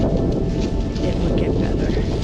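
Strong wind blasts across the microphone outdoors by the water on the Delmarva coast, a loud, constant roaring rumble with gusty buffeting throughout and no clear voices.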